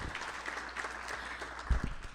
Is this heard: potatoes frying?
no